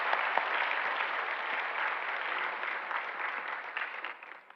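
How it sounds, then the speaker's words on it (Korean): Church congregation applauding during a Sunday worship service, steady dense clapping throughout that tapers slightly at the end. "인사할 때 박수로 우리가 찬양하겠습니다"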